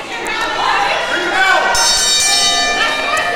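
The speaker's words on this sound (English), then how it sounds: "Get ready to ring that bell." A wrestling ring bell at a live independent wrestling event rings partway through, sustained metallic tones ringing out over a noisy arena crowd and commentary.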